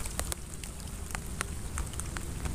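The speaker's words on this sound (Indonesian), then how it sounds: "Wah, hujan Mas Bro." Rain falls steadily outdoors during a fishing trip, a dense hiss with scattered sharp drop impacts ticking irregularly, close and moderately loud, no voices present.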